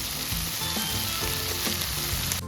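Salt, turmeric and coriander fry in oil for a village-style chicken curry, making a dense, close, continuous sizzle with a few stirring bumps underneath.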